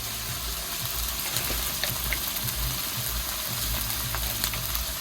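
Spices sauté in a pan with a continuous close sizzle, under a low rumbling hum and occasional light clicks of stirring, no voices present.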